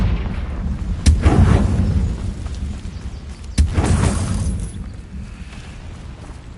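Confringo fire spell blasts in Hogwarts Legacy on PS5, two sharp booming explosions about two and a half seconds apart, each with a rumbling tail, loud and close over steady game ambience.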